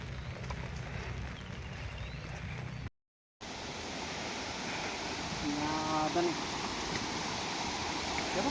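Heavy water rushes and splashes steadily in falling rain outside near a temple, a continuous broadband roar broken by one brief dropout, with a child and adult faintly present.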